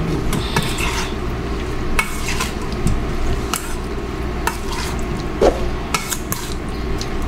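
Kinilaw with calamansi and pepper being stirred in a bowl, a continuous wet, squishy mixing with occasional light clinks of the utensil against the dish, close and steady with no talking.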